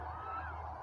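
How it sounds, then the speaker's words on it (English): Canada geese honk in a marsh at the Great Salt Lake during the autumn migration, a brief steady chorus of distant calls mixed into a dense wash of bird noise. "Tundra swans, Canadian geese, every kind of duck you can imagine."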